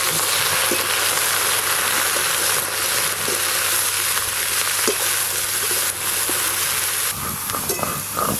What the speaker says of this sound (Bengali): ভেন্ডিগুলো ভাজতে কিন্তু একটু বেশ সময় লাগে, তাই কম আঁচে ভালো করে ভাজা হতে থাক